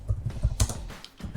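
A computer keyboard gets a quick burst of close clicky keystrokes as a command is typed, about half a dozen taps in an uneven rhythm with no voice.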